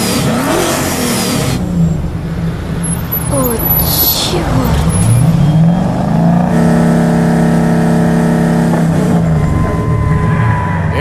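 A car engine revs hard while warming up, loud and close, its pitch sweeping up and down in repeated surges before settling into a sustained high drone, with a brief startled voice over it.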